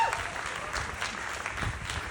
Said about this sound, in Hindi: तो एक बार जोरदार तालियां गुरु जी के लिए चाहिए।